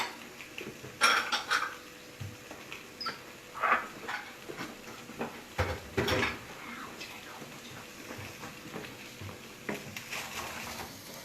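Spring onion is stirred in a non-stick pan with a utensil, giving close, irregular clinks and scrapes that come in bursts, with soft talk in the background.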